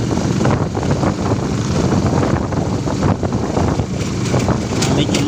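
Strong cold wind gusting hard around an open tricycle ride, roaring buffeting against the microphone in a dense continuous rush with voices talking faintly beneath it.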